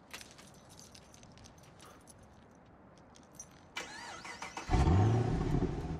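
Car keys jangle in the Quantum Break video game, a bright metallic rattle for several seconds, then an engine starts with a loud low roar that holds steady to the end.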